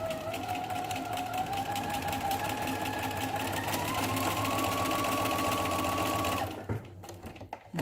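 A sewing machine runs steadily, stitching a straight seam 1 cm from the fabric edge. The motor hums loud and close for about six seconds, then stops.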